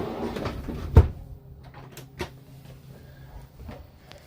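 A huge full-extension dovetailed drawer in a camper van conversion opens and shuts with a sharp wooden knock, followed by a few lighter sliding clunks and taps, close by in a quiet interior.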